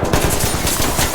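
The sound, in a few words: gunfire through a window in video game Ready or Not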